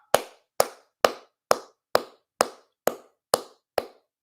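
Ten sharp, evenly spaced claps ring out one by one at a steady rhythm of about two per second, each crisp and isolated against silence.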